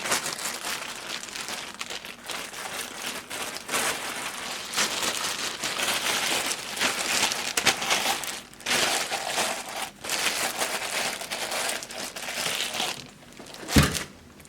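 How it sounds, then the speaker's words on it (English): A roll of printer paper from a DNP RX1HS dye-sublimation photo printer, bound with a rubber band, slid into a plastic bag, giving continuous close crinkling and rustling of plastic with brief pauses and a sharp knock near the end. "and put it back in its plastic bag."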